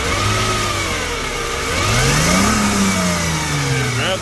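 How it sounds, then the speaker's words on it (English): A car engine revs in a garage while someone checks a junkyard ignition coil. It idles, then climbs in pitch and loudness, eases back and revs again, close up and with no talk. "It revs up just fine right now"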